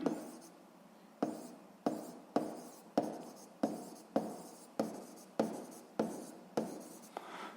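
Pen or chalk strokes scratch out a physics solution in a quiet room, a series of about a dozen crisp, evenly spaced strokes with a sharp attack and fading tail, close and clear with no talk.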